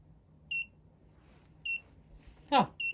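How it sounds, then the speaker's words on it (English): An electronic alarm on a Vevor 8-in-1 heat press machine beeps three times in short, high, evenly spaced pulses, with a brief spoken word between the last two beeps. "Nice little alarm."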